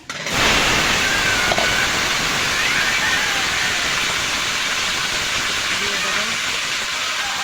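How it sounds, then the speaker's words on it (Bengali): Potatoes hit a pan of garlic fried until reddish, bursting into a loud, sudden sizzle that settles into a strong, continuous hiss of frying. "ভাজা হয়ে গেছে, এবার আলুগুলো দিয়ে দেবো"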